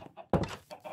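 Chickens in Minecraft with the ATM8 modpack cluck in short, soft bursts close by, one louder squawk standing out among quieter calls.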